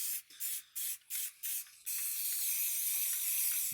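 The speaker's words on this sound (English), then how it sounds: "I'm just gonna spray the background to my Space Theme." Spray paint can laying down a black background for a space-themed painting: several short, close hissing bursts in quick succession, then one long continuous spray with no talking.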